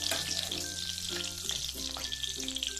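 Squid pieces frying in hot oil, a quiet continuous crackling sizzle with faint tonal hum and light clatter underneath, close by and without any voices.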